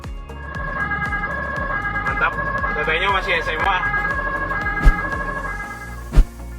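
An ambulance siren wails steadily on an Indonesian road as traffic clears a path toward a hospital, its rising and falling tones running loud throughout, with a voice talking over it and two sharp knocks near the end.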